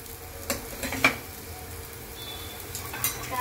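Onions fry in a pan until golden, making a low steady sizzle with a few faint utensil clinks and stirring scrapes, close by and quiet.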